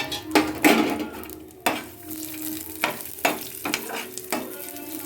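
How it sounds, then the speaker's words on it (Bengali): Cashews, raisins and pistachios fry with cardamom, cinnamon and bay leaf in a pan, giving a close sizzle broken by repeated spoon scrapes and clinks against the metal. "এখানে কাজু, কিশমিশ, পেস্তা দিয়ে একটু ভেজে নেব"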